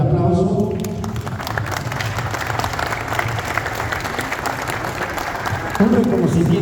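An audience applauds at a book presentation in Tenancingo, with steady clapping held at an even level for several seconds while a voice talks over it near the start and end.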